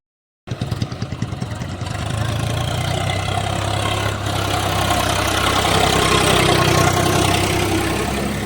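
A tractor engine, loaded with fodder for cows, starts up and settles into a steady close idle, its rhythmic chugging throb continuing loudly throughout with faint voices around.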